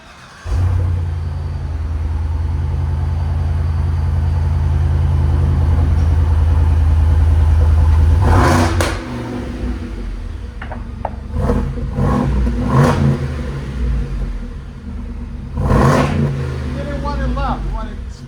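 A 2025 Ford F-250 Super Duty with a 6.8L gas V8 and Carven R-Series exhaust holds a loud, sustained rev, then drops and gives several shorter blips, with people talking between revs.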